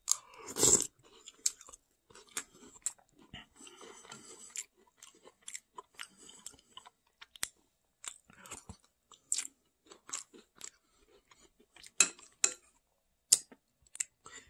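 Club Mini crackers crunched and chewed alongside soup at dinner, with close, sharp bites and steady mouth noises repeating in irregular bursts throughout, no talking.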